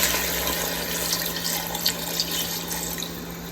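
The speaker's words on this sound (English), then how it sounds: "I'm gonna pour in about 2 cups of water." Water pours steadily into a cooking pot for a brown stew chicken foot and rice dish, a continuous bright splashing rush with a low steady hum beneath it, close and unbroken.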